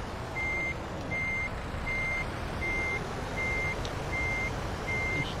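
Steady reversing beeps from a truck in Euro Truck Simulator 2, seven evenly spaced tones repeating over a constant engine rumble, clear and prominent with no talking.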